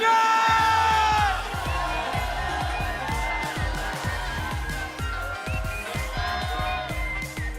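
A crowd at an esports playoff match between Falcons and ONIC PH cheers and shouts loudly over a thumping, rhythmic beat, swelling at first and then carrying on at a steady level.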